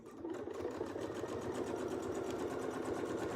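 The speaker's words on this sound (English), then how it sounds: "we're going to sew right into the corner where our little mark is" A sewing machine stitches along a Westalee ruler curve in quilting, a steady rapid mechanical chatter of fast, even needle strokes running throughout at close range.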